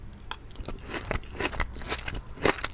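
Soft, well-cooked onions from a homemade beef-and-onion dish are chewed close to the mic, giving a run of wet crunchy bites and squelches at an irregular pace with no talk.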